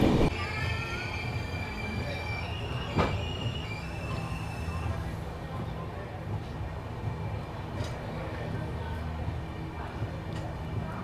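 The 12757 Secunderabad–Sirpur Kaghaznagar superfast express rolls along the rails near Bellampalli with a low rumble and wheel squeal, a few sharp clanks breaking through the steady mechanical noise.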